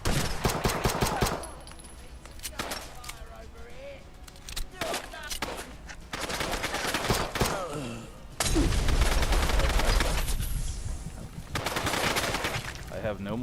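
Combat rifle gunfire in Fallout London, rapid automatic bursts repeating in several loud, close volleys separated by brief pauses.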